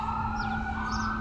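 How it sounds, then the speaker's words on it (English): A police car siren sounds in a steady, sustained wail near a river, heard at a moderate distance over continuous background noise. "Police."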